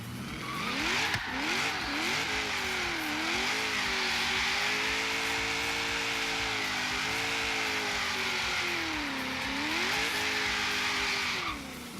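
Engine roaring steadily and tires squealing as a car spins donuts in the racing game Forza Horizon 3, loud and continuous for the whole stretch with wavering revs and no talk.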